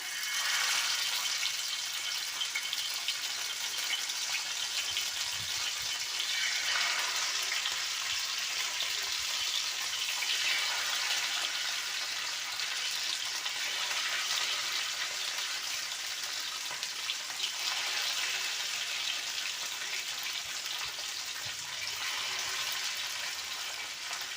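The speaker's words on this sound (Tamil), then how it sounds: "எண்ணெய் கொஞ்சம் கம்மியாகவே போட்டு வறுத்துட்டு ஆகுதுங்க மீன் சேர்த்துக்கலாம்" Sankara fish fries in a little oil in a pan, a continuous close sizzle with fine spattering crackles that holds steady throughout and no talking over it.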